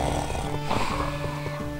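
A character in the game Ape Escape 2 snores in a buzzy, rasping drone with a steady pulsing rhythm, loud and close, with no talk over it.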